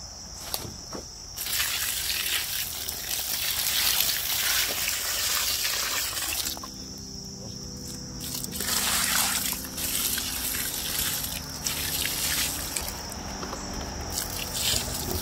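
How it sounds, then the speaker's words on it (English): Water pours and splashes steadily onto a loose fall compost pile, with a short lull midway, while insects chirp constantly in the background. "Okay, gonna keep adding some more water."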